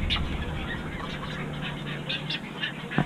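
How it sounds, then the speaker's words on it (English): Many birds, including egrets, call over one another at a rookery in thick green vegetation, with duck-like quacks and honks rising from a dense, noisy colony close by. "The birds are everywhere."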